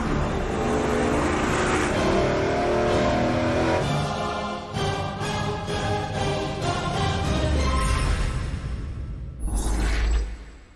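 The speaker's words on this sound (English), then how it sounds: "that is a big block Ford, the very first 385 series engine to appear on Engine Masters" A big block Ford 385 series V8 on an engine dyno revs loudly, its roar rising and falling through several throttle blips before a final deep burst near the end.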